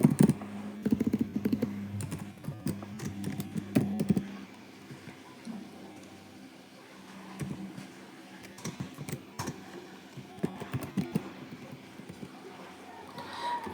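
Typing on a computer keyboard while entering Java code, a steady run of quick, light clicks and key taps at close range, busier in the first few seconds and then more scattered.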